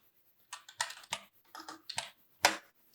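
A name is typed on a computer keyboard in a quiet room: a short run of separate key taps, ending in one firmer press of the enter key.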